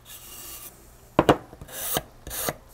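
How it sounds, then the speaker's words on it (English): A sanding block works the edge of a Garmin Force boat propeller, giving short rasping scrapes in a few quick strokes, close and fairly loud, with a faint hiss between them. "the reason we chose this sanding block again is it's able to contour really well with this prop"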